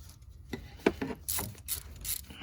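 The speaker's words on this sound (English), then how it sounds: "now I have to probably get in your way a little bit here so I can tighten this clamp" Hose clamp being tightened on the water pump of a 2016 Dodge Charger R/T with a 5.7 engine, giving a few short close ratcheting clicks and small metallic scrapes, quiet and without talk.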